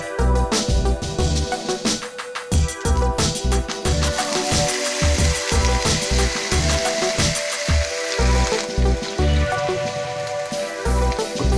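Okra pieces dropped into a hot pan of oil with well-fried dried red chillies for a Kerala okra stir-fry, giving a loud, steady crackling sizzle that runs continuously with dense popping throughout, no talking.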